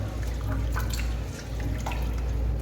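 Vegetables, broad beans, are rinsed by hand in running water, giving a steady splashing and trickling with brief drips and slosh throughout, close and fairly loud, with no talking.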